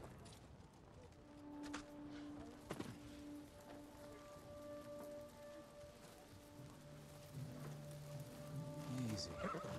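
A horse whinnies in the Ghost of Tsushima video game, the neigh rising over a steady rain-like ambience, with faint hoof clops and voices in the background.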